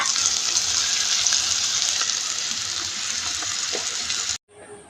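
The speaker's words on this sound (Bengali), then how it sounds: "আলু উচ্ছাটা ভাজা হোক ভালো করে।" Potato and bitter gourd slices fry in oil in a pan, a loud steady sizzle with faint stirring scrapes that cuts off abruptly near the end.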